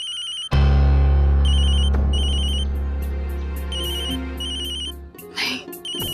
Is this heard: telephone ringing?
yes